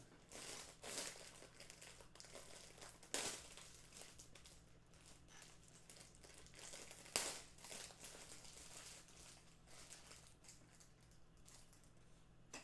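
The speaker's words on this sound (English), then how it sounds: "I'm just going to bite it with my teeth and rip it open" A plastic packet torn open by biting with the teeth, a faint, irregular crinkling and crackling with a few sharper rips scattered across it, close up.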